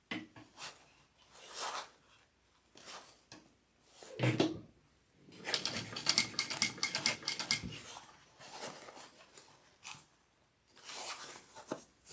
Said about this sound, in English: I'm just going to sew this around first.